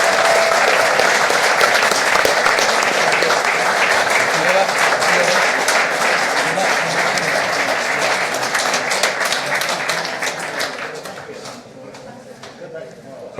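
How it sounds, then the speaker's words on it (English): Audience at a reception during the Yonex All England badminton championships giving a big round of applause, loud and sustained for about ten seconds before thinning out into scattered claps and fading. "Give them a big round of applause"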